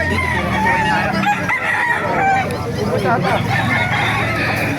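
Chickens cluck and a rooster crows at the crowded Bocaue market, close and overlapping, under a steady babble of nearby voices and people talking.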